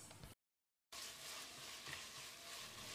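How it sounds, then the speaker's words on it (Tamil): Tomatoes sautéing with ginger-garlic paste in a pan for a South Indian lunch-box dish, a steady close sizzle with stirring, broken by a brief silent gap near the start, no talk. "தக்காளி இந்த அளவுக்கு வதங்கினது போதும்."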